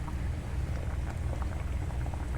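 Millet (samalu) simmers in water in a pot, a steady dense bubbling and popping that carries on evenly and close up, with no voices.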